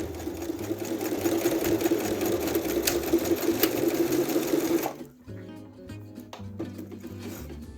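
A sewing machine runs loud and steady, stitching a zipper seam with a fast, even mechanical whir and needle clatter, then stops abruptly, leaving quieter handling clicks and light taps.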